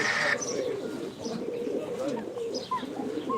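Soft bird cooing repeats alongside scattered chirps, fairly close, over a low ambient hum with no talking.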